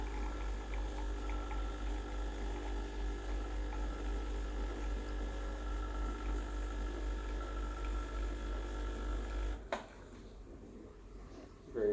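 A Sage Oracle BES980 espresso machine pumps a shot with a steady low droning hum and faint liquid hiss that runs unbroken for about ten seconds, then cuts off abruptly, leaving quiet room tone.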